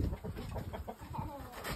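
Shamo gamecocks clucking in a short burst of low, soft, close calls, faint and slightly muffled, with no talk over them.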